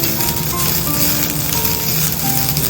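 Bitter gourd for theeyal roasting in a dry pan without oil, producing a dense, continuous close sizzle and crackle at a steady level, with no voices.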